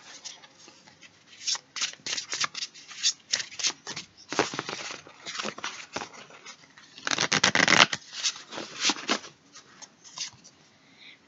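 Tarot cards being shuffled by hand, a close, crisp riffling and flicking in uneven bursts that swell louder near the middle and toward the end, with no talk over it.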